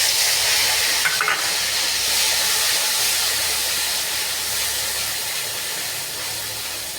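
Onion paste frying in a pan for katla fish curry in yogurt, a steady loud sizzle and hiss heard close and alone throughout.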